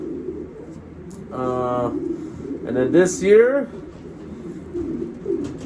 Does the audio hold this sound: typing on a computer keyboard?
no